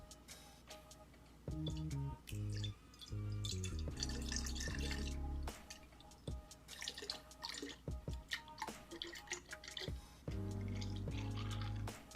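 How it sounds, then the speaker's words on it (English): Blended aloe vera drink is poured into a glass in several separate streams, some gurgling and some dripping, each with a rising fill pitch, close and clear with short pauses between pours and no talking. "We're gonna pour the rest here."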